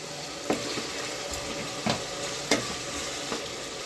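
Spices roasting in a hot pan for homemade biryani, a steady close sizzle broken by four sharp scraping stir strokes spaced through the stretch.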